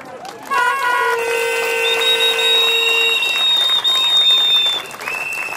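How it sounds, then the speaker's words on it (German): A crowd at a Monday demonstration in Zittau applauds Martin Sonneborn, continuous clapping with whistles and horn-like tones sounding over it. "Ja, Beifall geht natürlich Martin Sonneborn"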